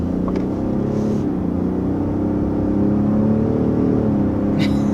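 A 2022 Ford F-150 PowerBoost hybrid pickup with a 3.5-liter twin-turbo engine accelerates, giving a steady, loud low drone and rumble that holds throughout, heard from inside the cab with no talk.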